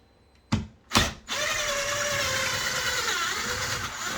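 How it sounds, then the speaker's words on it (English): A screw being driven into a door hinge with a power drill, two sharp cracking bursts followed by a steady whirring grind that runs loud to the end, with no talking. "so it's making that cracking noise"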